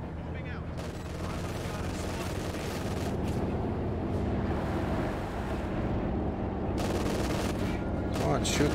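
Company of Heroes 2 gameplay: dense battlefield gunfire with rattling volleys and sharp bursts layered over a continuous roar of combat noise, loud throughout.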